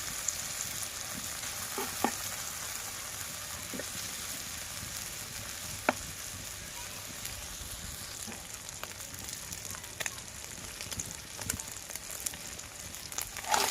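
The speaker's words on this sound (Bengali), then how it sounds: "আর মাছগুলো একটু লাল লাল করে ভেজে নিব" Baim eel fish fry in hot oil in a pan during village cooking, giving a steady, close sizzle with faint scattered pops and occasional clicks of stirring.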